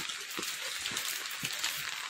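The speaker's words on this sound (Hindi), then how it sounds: "तो ऐसी बारिश हो रही है आजकल" Steady rain falls during an unseasonal January downpour, a continuous close, even hiss of drops on surfaces with no talking.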